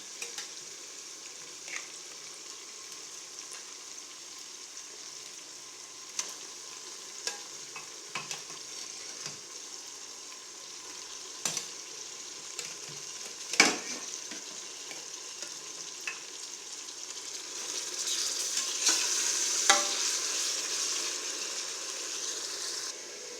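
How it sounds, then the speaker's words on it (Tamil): Mutton sizzles softly in a pan with onion and tomato, a continuous low crackle broken by occasional spoon taps and scrapes, swelling louder near the end. "இப்போ கறி வெந்துக்கிட்டு இருக்கு"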